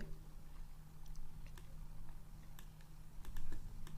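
Keys tapped on a computer keyboard while typing a boolean search string: sparse, faint, irregular clicks over a low background hum, without talk.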